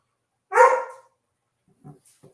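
A dog lets out one loud, close bark, then a couple of softer short yips or whimpers follow after a pause.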